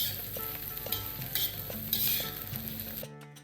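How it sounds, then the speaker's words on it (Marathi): Sliced onion sautés in hot oil in a pan, a steady sizzle with repeated stirring scrapes close by. The sound cuts off sharply near the end, and no one speaks. "कांदा आपल्याला व्यवस्थित परतून घ्यायचा आहे."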